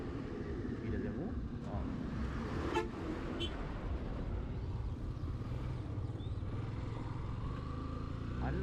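A vehicle horn toots briefly a couple of times on a misty mountain road near Kalabokka, heard over steady road and engine rumble, with faint voices in the background.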